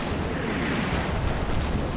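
Gunfire in the wartime strategy video game Combat Mission Red Thunder, a dense, continuous rumble of shots and blasts blending into a loud, unbroken wash of battle noise.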